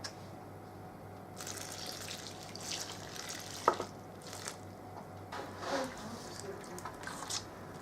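Warm water is poured into Nigerian puff puff batter and mixed in, giving soft, faint splashes and wet squishing in a quiet kitchen, with a few brief louder slaps.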